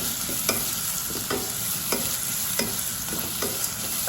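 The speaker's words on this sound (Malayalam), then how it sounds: "സവാള ഒന്ന് നന്നായിട്ട് വഴണ്ട് വരട്ടെ" Chopped onion sautéing in a pan with chana dal for wheat vermicelli upma, a steady close sizzle broken by periodic scraping stirs of a spoon about every half second to second, no voices.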